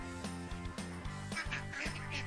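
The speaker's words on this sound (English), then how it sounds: "He uses his ears to hear the ducks go quack, quack." Farm ducks quack in a quick, regular series of short nasal calls. The calls sound close and fairly soft.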